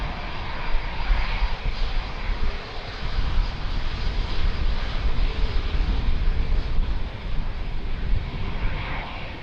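A fixed-wing aircraft engine roars steadily and loud at Lisbon Airport, a broad sustained drone with a near-constant level throughout and no talk over it.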